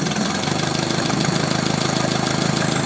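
An Atomic 4 marine gas engine from a sailboat idles low and steady, a loud close rhythmic chug with a fast even pulse and mechanical clatter; no talking.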